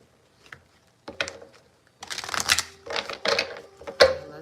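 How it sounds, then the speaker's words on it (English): A deck of tarot cards being shuffled by hand, quiet riffling bursts separated by short pauses, close and soft, with no talking over it. "Let me shuffle one more time."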